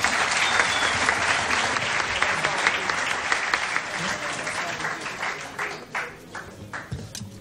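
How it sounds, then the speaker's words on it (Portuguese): Audience at a live fado show applauds the production crew, thick clapping that gradually thins into scattered individual claps toward the end, with some voices mixed in. "Uma salva de palmas para eles todos."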